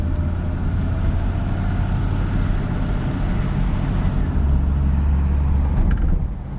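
A classic Mercedes drives along at a steady, loud cabin drone, and the engine note shifts only slightly through a smooth gear change.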